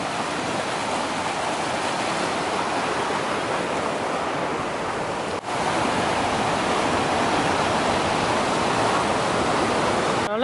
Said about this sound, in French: Alors là, on longe la rivière. Une jolie cascade, là.